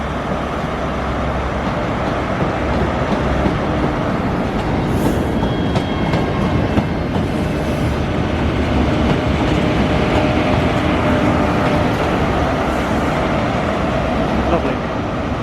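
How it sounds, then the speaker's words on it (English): An Aberdeen-bound train pulls out of Glasgow Queen Street station into a tunnel, giving a steady, loud rolling rumble with faint wheel clicks and brief squeals throughout, no voices. "there's the Aberdeen train leaving, bang on time at 11:41"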